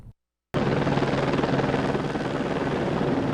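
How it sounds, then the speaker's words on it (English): Firefighting helicopters bucketing water from a river at a Vancouver Island wildfire make a loud, steady rotor roar that starts abruptly after a brief silence and holds constant. "a steady stream of helicopters are bucketing water from a nearby river"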